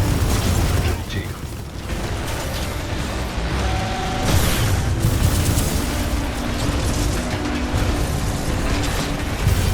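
Gunfire in the shooter video game Titanfall 2, loud dense bursts of weapon fire and explosive booms layered over continuous game noise for several seconds.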